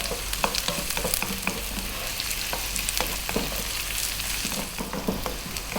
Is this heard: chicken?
no